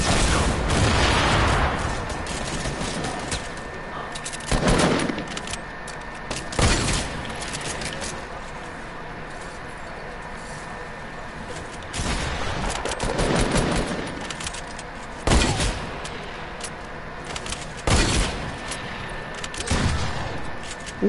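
Video game gunfire sounds in repeated loud bursts and rapid volleys, with booming shots spaced every few seconds over a continuous rumbling background.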